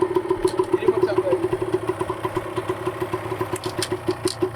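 Motorcycle engine running in first gear, a steady close throbbing idle-like rumble with rapid even pulses while a person talks over it.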